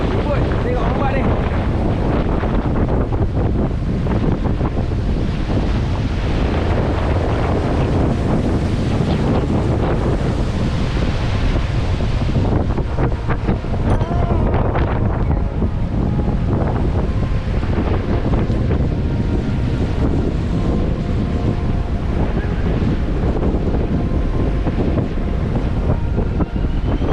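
Strong storm wind roars against the microphone at a seaside campsite in Port Dickson, with crashing ocean waves and surf forming a dense, continuous rumble that stays loud throughout.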